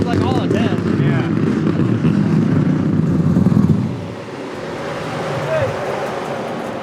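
A big-block engine in a Formula Drift car revs hard and loud, a violent, harsh roar filling the first four seconds before dropping to a lower, steadier drone, with voices talking over it.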